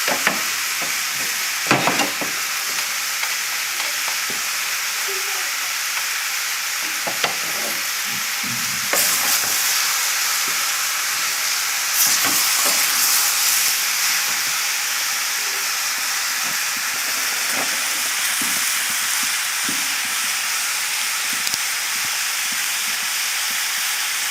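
A pork hock mixture stirred in a pot over heat, giving a steady sizzling hiss with intermittent scraping strokes throughout, close and fairly loud, with no talking.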